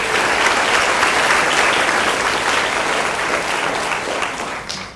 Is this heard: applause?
yes